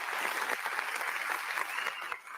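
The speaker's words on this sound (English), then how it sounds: "Oh, don't forget the soundboard. Claps all around." A soundboard applause effect plays during a live show, a dense burst of crowd clapping that stays loud and steady for a couple of seconds before dipping slightly at the end.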